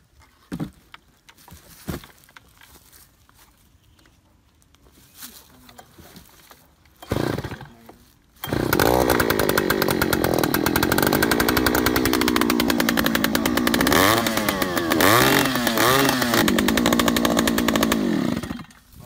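An Oshima 2PS two-stroke earth auger engine drilling into sandy soil starts up after quiet handling noises and then roars loudly and steadily, close by, with rising and falling revs as the throttle is worked.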